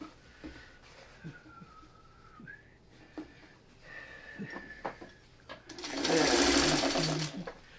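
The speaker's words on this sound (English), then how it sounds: "So now we start sewing these rows together." A domestic sewing machine stitching rows of a quilt block together runs in a loud, steady whirring burst near the end, after scattered soft handling sounds and faint whistling tones.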